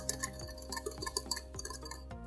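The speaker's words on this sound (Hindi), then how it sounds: "तो इन दोनों को अच्छे से विस्क की मदद से हम मिक्स कर देंगे" A whisk beating cooking oil and yogurt together in a bowl for an eggless semolina cake, giving quick, steady clinks and scrapes against the bowl with no talking.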